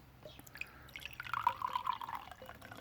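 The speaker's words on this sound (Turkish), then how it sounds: "E, şimdi geniş bir kapa boşaltıyoruz. Ben bardağı boşaltıyorum." Liquid rooting hormone poured from a glass into a wide container for rooting rose cuttings, a soft trickling and dripping pour that builds through the middle and stays close and quiet.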